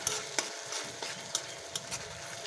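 Ginger-garlic and onion paste being stirred and fried in a pan for a cucumber fish curry, a steady close sizzle broken by scraping spatula strokes at irregular intervals, with no talking.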